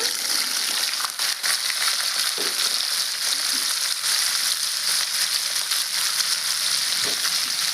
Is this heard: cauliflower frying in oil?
yes